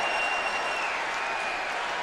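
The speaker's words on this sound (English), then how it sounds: "And now that the crowd gets into it" A Bears home crowd at a 2011 football game against the Packers roars in a steady, dense wash of cheering and noise that holds loud throughout.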